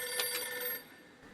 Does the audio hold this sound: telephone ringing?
yes